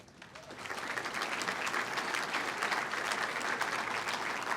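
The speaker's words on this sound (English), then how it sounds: "Give them all another big round of applause." An audience at the Greater Cincinnati Business Hall of Fame ceremony applauds its laureates, the clapping swelling quickly into a dense, sustained roar of hands that holds steady throughout.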